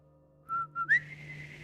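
A person whistles to imitate a whistle: two short steady notes, then a third that slides upward into a held tone, close and clear.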